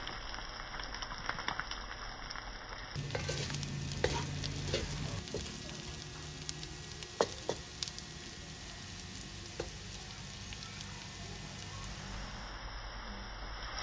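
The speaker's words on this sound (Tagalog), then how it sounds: "Igisa lang natin ito ng ilan pang minuto. At saka natin ibalik yung ating mga pork belly." Pork belly sautéing in a pan for Bicol Express crackles with a steady, soft sizzle that grows livelier once the meat goes in, with occasional stirring clinks.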